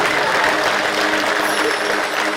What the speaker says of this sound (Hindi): एक बार सब भाव से ताली बजाओ।